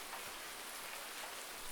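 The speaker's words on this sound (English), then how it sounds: "It's just non-stop rain." Steady rain in the Farming Simulator 19 video game, a quiet, even hiss of falling drops with no other sounds.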